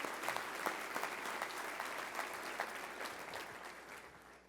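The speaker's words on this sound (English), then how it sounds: "give her a round of applause." An audience at an award ceremony claps in warm applause that holds steady, then gradually tapers off toward the end.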